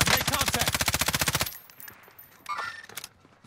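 Rapid automatic gunfire from the video game Call of Duty Warzone, set on Fortune's Keep, hammers out a dense, loud burst of evenly spaced shots for about a second and a half, then gives way to quieter game sounds and a brief mid-range clatter.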